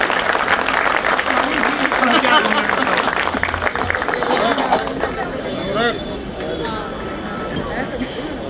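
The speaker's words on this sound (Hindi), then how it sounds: "मैं आमंत्रित करता हूं मुख्यमंत्री जी को जोरदार तालियों से" Loud applause and cheering from a large crowd at a Delhi Bar Council event at Tis Hazari, welcoming the Chief Minister, with babble of voices; the clapping stays dense throughout and thins slightly toward the end.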